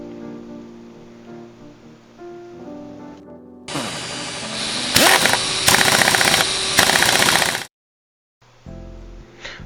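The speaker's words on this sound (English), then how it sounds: "I've removed the cleaning rod holder, grind it down a little bit, and also I notched the gas block just a little" An angle grinder or power tool grinding down the cleaning rod holder and notching the gas block of an AK-105 rifle, a loud harsh whine surging in bursts for several seconds before cutting off abruptly.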